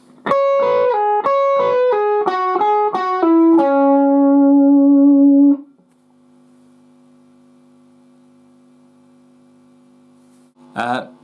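A slow guitar lick: a run of clear picked notes stepping downward, settling on a long sustained note that fades, followed by a short sharp strum.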